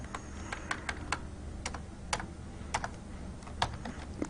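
Someone types a command on a computer keyboard, a run of distinct close key clicks at an uneven pace over a low background hum, with no speech.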